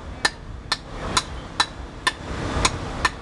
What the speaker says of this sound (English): He first beats the conch with a hammer to open up the cracks in the shell.